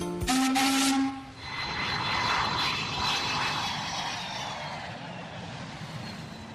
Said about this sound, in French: On a pris l'avion